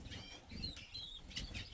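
Several small birds, including lesser cockbirds, flapping their wings as they fly about inside a nine-foot cage in a home birdroom, a faint, soft fluttering in short bursts with quiet chirps mixed in.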